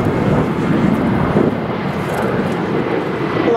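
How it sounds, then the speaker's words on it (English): Thunderbirds jets roar overhead during a flyover of Los Angeles in May 2020, a loud, broad, continuous rush of engine noise with some wind buffeting on the microphone. "A lot of airplanes taking off"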